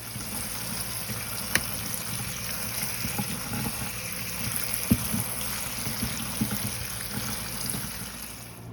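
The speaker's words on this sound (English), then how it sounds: "So let's rinse it under cold water." Running water flows steadily from a tap over cooked pasta, a continuous splashing stream with a few small knocks and clatters of pasta shifting beneath it.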